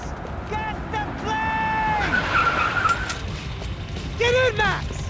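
Car tires skid and squeal in Max Payne 3, a few short screeches over a steady engine and action bed, with game voices talking over the driving.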